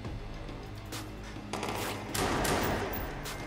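Gunfire in the video game Watch Dogs 2: dense, continuous bursts of shots that grow heavier midway and stay loud throughout, with no talking.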